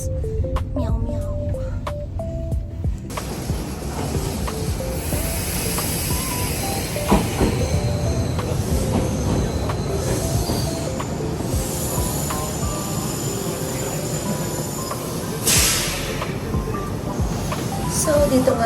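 A provincial train in Japan rumbles past with steady clattering wheels and a broad hiss that holds throughout, with faint voices underneath.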